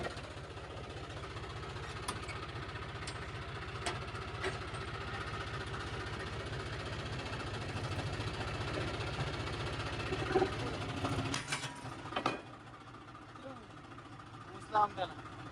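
A tractor engine idles steadily with a rough, chugging rumble, joined by scattered clanks and brief knocks; it quiets noticeably near the end.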